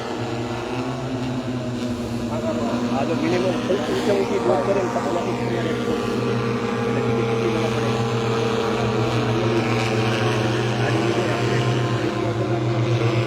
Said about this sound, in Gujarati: ડ્રોન ટેકનોલોજી દ્વારા જે છંટકાવ થઈ રહ્યો છે